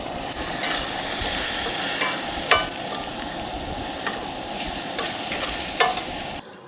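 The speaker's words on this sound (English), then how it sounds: "Heating up the tortilla shells right now." Tortilla shells heat on a grill at a desert campsite, giving a steady close sizzle and hiss with occasional sharp ticks and scrapes, no voices, until it cuts off near the end.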